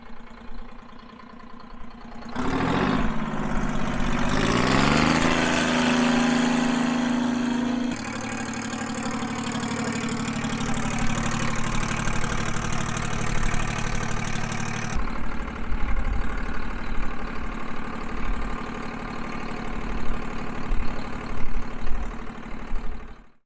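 An Oliver tractor's GM diesel engine starts up and settles into a loud, steady idle with a low throbbing rumble that shifts slightly in pitch partway through.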